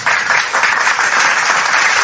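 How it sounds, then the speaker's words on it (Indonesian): Hand clapping from a gathered audience at a talk on whether Jesus is God, a dense, loud, continuous burst of applause lasting a couple of seconds with no voices over it. "saya tepuk tangan untuk itu dulu"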